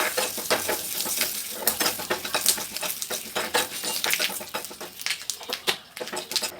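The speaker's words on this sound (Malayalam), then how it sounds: "ഒരു ചെറിയ ചീനച്ചട്ടിയിലേക്ക് കടുക്, ഉഴുന്നുപരിപ്പ്, കറിവേപ്പില എന്നിവ ചേർത്ത് നല്ലതുപോലെ ചുവക്കെ വറുത്തെടുക്കുക." Mustard seeds, urad dal and curry leaves fry in a small pan, producing a close, crackling sizzle with rapid irregular pops and spatters throughout, with no voices.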